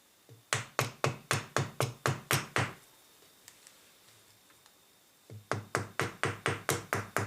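A screwdriver handle used as a hammer taps a pin out of a break-barrel air rifle's steel cylinder: a steady run of about nine sharp, close knocks, a short pause, then another even series of taps.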